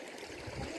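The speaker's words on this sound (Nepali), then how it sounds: "यो खोलाको नाम चाहिँ सर्दु खोला है" The Sardu Khola, a small river, flows in a steady soft rushing wash, faint and continuous over a brief moment with no voices.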